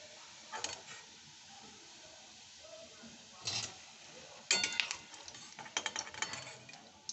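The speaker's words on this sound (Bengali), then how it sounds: "এইরকম লাল লাল করে ভেজে নিতে হবে।" Bits of leftover bread shaped into small langcha fry in oil in a pan, with scattered scraping and stirring clatter over a soft sizzle, quiet and close, in uneven bursts.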